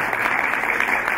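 A brief burst of clapping from the audience at a COPEL sustainability trophy ceremony, a dense, even patter of hands lasting only a moment.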